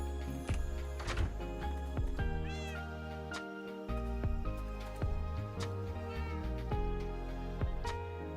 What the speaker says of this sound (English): Cat sounds to soothe the soul.